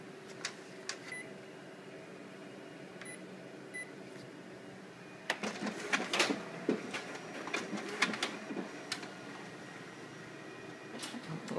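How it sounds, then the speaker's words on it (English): Ricoh MP C2500 copier feeding copies through its document feeder, quiet mechanical whirring with a few early beeps, then a busier run of clicks, rattles and paper rustles. "we're going to run them through the document feeder, verify that works well"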